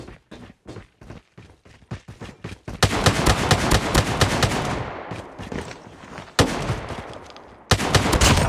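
Rapid gunfire in a video game gun fight, opening with a string of separate sharp shots and then breaking into dense, sustained automatic bursts that stay loud throughout.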